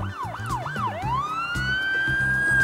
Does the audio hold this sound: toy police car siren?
yes